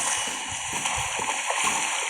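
A stegosaurus splashes through water in the survival game The Isle, a steady broadband wash of sloshing and splashing with soft low thumps throughout.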